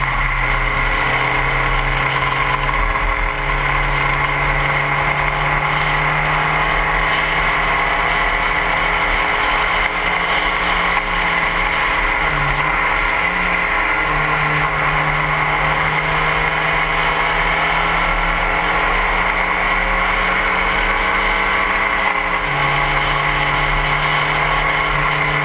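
Spec Racer Ford race cars lapping the Laguna Seca circuit, engines droning and revving at a distance with shifting pitch as they pass, a sustained mechanical whine over steady background noise.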